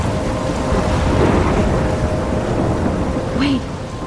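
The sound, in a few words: thunderstorm with thunder and rain in the video game Life is Strange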